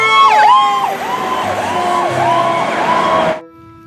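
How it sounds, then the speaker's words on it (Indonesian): A toy fire engine sounds its electronic siren close and loud, with rapid warbling up-and-down wails that stop abruptly, leaving a faint hum. "Pemadam kebakaran."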